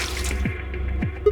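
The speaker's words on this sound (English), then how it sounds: "now I just need to pour the water in" Water poured into a jar in Zero Escape, heard as two distinct dripping plops with falling pitch, spaced about half a second apart, followed by faint higher tones.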